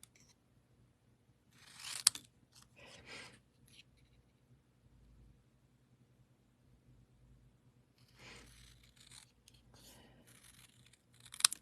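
Scissors cut out a stamped paper image in a quiet room, giving faint crisp snipping and paper rustles in two short clusters separated by near silence.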